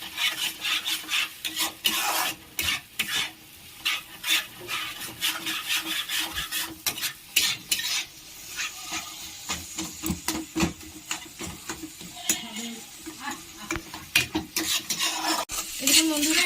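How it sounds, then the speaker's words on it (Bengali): Masala for Dhaba-style egg tarka is stirred and scraped in a pan, a spatula rasping and knocking in quick irregular strokes over a faint sizzle, close and busy, with no one talking. "এটাকে আমি ভালো করে এবার কষিয়ে নেব।"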